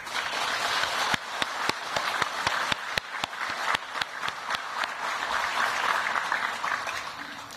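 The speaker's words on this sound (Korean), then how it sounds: "따뜻한 박수를 부탁드립니다" Warm applause at a luncheon for war veterans at the Blue House guesthouse, with steady clapping and sharper individual claps standing out. It carries on for several seconds with hardly any talk.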